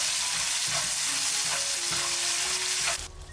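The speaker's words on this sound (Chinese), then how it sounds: "接着放入猪肠继续翻炒" Pig intestines stir-fried in a wok with doubanjiang and hotpot base sizzle loudly and steadily, with stirring scrapes over a dense frying hiss that cuts off sharply near the end.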